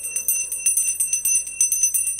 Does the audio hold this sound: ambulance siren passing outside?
no